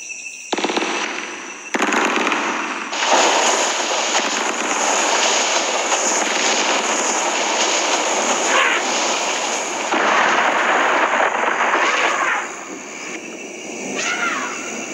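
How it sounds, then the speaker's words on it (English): Gunfire in an African forest: a dense, sustained roar of loud, crackling shots runs almost without a break for about fifteen seconds, with brief dips near the start and a later easing. "Gunfire."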